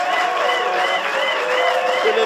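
A large crowd applauds and cheers loudly and without a break, with wavering raised voices riding over dense, steady clapping.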